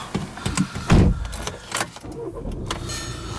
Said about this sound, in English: let's jump in, start it up